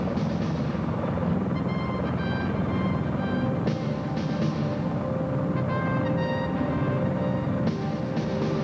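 CH-53 helicopter dropping reconnaissance teams with inflatable rubber raiding craft, a loud continuous rotor and turbine roar with a rhythmic blade thump, steady throughout with no voices.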